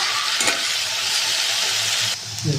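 Beans and potatoes fry in hot oil in a wok, a loud close hissing sizzle with a few stirring scrapes and a brief shift near the end.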